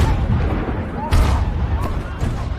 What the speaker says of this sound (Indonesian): Namun tidak lama ada sebuah ledakan